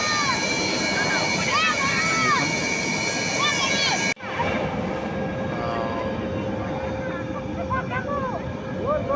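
A military aircraft lands during an exercise on a four-lane national highway at Moran, a loud, continuous roar that drops briefly midway, with people talking excitedly nearby over it.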